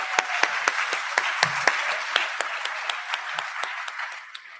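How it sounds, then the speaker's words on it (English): Audience applauding speeches at a college orientation workshop graduation, a crowd's dense clapping with several sharp, rhythmic louder claps standing out, sustained throughout and tapering slightly at the end. "let's give them a round of applause"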